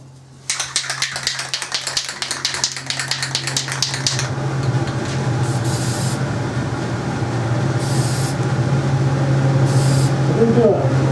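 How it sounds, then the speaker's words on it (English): A spray can rattles briefly as it is shaken, then hisses in a steady stream as yellow paint goes onto an RC helicopter canopy, close and continuous with a low hum beneath. "So then I'm going to put my mask on and spray the yellow."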